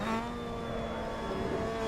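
Mazda MX-5 Cup race car engine at Watkins Glen in Assetto Corsa, a brief steady buzzing drone with a clear sustained pitch and gently rising harmonics as the throttle eases on, close and loud with no voices.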